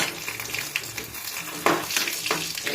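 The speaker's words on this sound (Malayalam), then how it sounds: "നമ്മുടെ കടുക് ഇവിടെ പൊട്ടി വരുന്നുണ്ട്" Mustard seeds popping in hot oil in a pan while sambar is being made: a steady sizzle with scattered sharp crackles and a few louder pops toward the end, close and fairly loud, with no talking.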